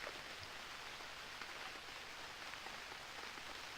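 Soft, even rain falling in the survival game Unreal World, a faint steady patter that continues unchanged throughout with no other sounds.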